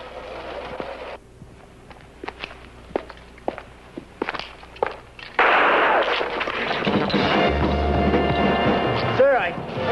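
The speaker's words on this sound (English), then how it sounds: "I think somebody's shooting at you" Sharp gunshots crack out one after another in a 1978 comedy-horror film scene, followed by a louder, dense burst of battle noise with a voice heard near the end.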